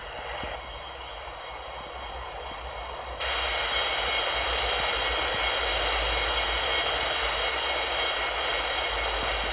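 An airliner engine drones steadily during pushback at a video-game airport. The broadband roar with a low rumble steps up louder partway through and holds, with no voices.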